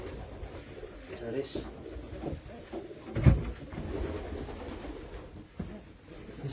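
Racing pigeons softly cooing in a loft, faint low coos with a brief louder flutter midway, under someone talking.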